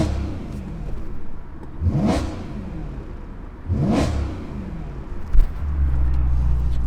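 BMW E92 M3 engine revving in two sharp, loud blips with a fall back to idle in between, followed by a brief clunk and then a steady rumbling idle.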